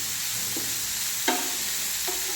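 Vegetables for kadai paneer sauté in a pan with a soft, steady sizzle, broken by a few faint scrapes of stirring.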